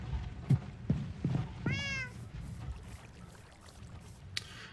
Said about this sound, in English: what was with that cat?